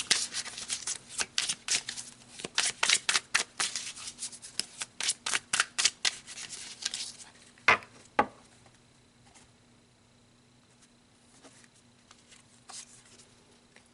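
A deck of tarot cards is shuffled close by in a rapid series of crisp riffling and slapping bursts, tapering into a few isolated taps and quiet handling.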